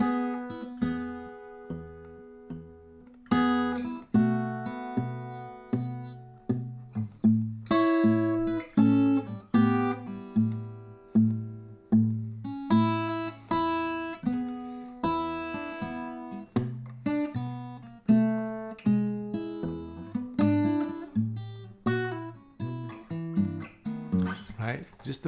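Fingerstyle blues guitar playing an instrumental arrangement of an 8-bar blues, with a melody picked over a steady alternating bass, plucked notes ringing clearly in a relaxed, even rhythm with no talking.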